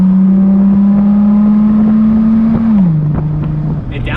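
A friend's newly bought car on a test drive, its engine droning steadily at one pitch, then dropping in tone as it downshifts, with road noise and faint clicks underneath.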